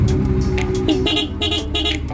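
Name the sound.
loud horn honking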